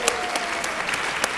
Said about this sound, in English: A little bit of applause for the teachers.